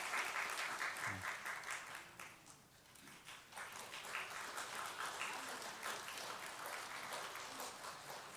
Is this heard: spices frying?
no